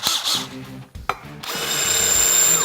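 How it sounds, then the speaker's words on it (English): A power drill with a masonry bit grinds into absolute black granite, starting with short bursts and a brief pause, then running steadily and loudly with a high, harsh whine. "You put your masonry bit in there"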